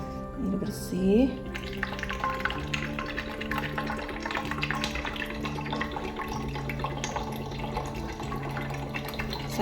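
Clean water poured into a plastic sprayer bottle, a continuous gurgling fill with a rising tone as the bottle fills and a voice speaking briefly near the start.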